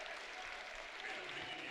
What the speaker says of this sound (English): Good applause for Grotti